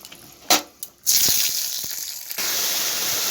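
Tempering added to a vegetarian lentil and greens dish, a couple of sharp clicks followed by a sudden loud sizzling hiss that stays strong and steady, surging again near the end, heard close and without talk.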